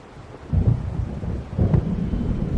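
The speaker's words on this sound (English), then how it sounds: "It seems there's a storm coming." Thunderstorm in Alan Wake Remastered: a low rolling rumble of thunder that swells twice over a steady bed of rain and wind, with no voices.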